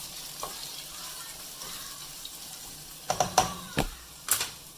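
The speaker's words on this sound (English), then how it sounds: "So now we're going to stir the onion." Onion being stirred as it fries in a pan while making chiles rellenos, with a soft steady sizzle and a few sharp utensil scrapes and clicks near the end.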